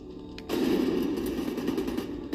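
Explosive rounds fire in The Division video game, producing a loud, close, sustained burst of rapid gunfire that starts about half a second in and continues to the end.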